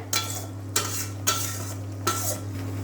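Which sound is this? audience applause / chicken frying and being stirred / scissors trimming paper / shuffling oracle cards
chicken frying and being stirred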